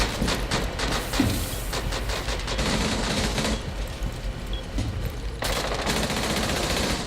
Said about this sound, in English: Careful, Rosie, they're just shooting that spot.